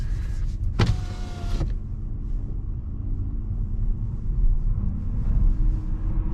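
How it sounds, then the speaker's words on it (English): A power window on a 2023 Renault Captur e-Tech full hybrid slides down with a short electric motor whine lasting about a second. It sits over a steady low cabin rumble from the car moving slowly at night. "So let me just lower the window here."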